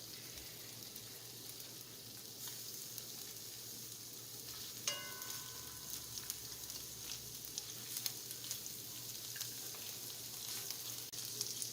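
Shrimp fry in a pan for a shrimp vegetable stew, with a steady, even sizzle and occasional small pops and spatters, close and continuous throughout.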